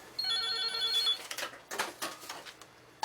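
Telephone rings in a small side-dish shop run by a couple in Namdaemun Market, a repeated electronic trill of bright pulses for about a second, followed by clattering shop noises and movement.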